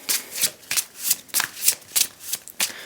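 Tarot cards being shuffled by hand, a rhythmic run of about nine crisp riffling bursts, close and fairly loud, with no voices.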